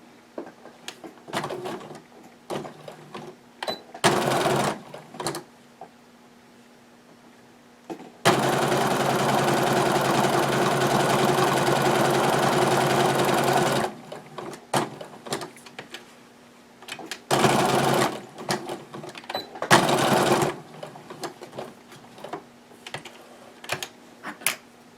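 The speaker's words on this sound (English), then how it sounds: "So you will sew that together." A sewing machine stitches fabric for a handmade scrub cap, running in several short bursts and one long steady run of about six seconds, close and fairly loud with quiet pauses between.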